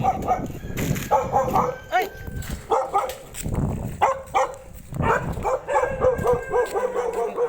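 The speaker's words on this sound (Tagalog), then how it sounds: "Ayan, ang daming aso dito." Dogs bark repeatedly in bursts, several voices overlapping at close range, with a few yips and whines and faint human voices between.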